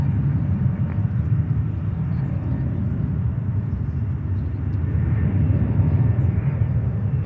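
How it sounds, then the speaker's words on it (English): A JetBlue airliner departs runway 31 left at JFK, its engines a steady, distant low roar and rumble that holds throughout, with a faint voice now and then. "there we have JetBlue leaving on 3-1 left"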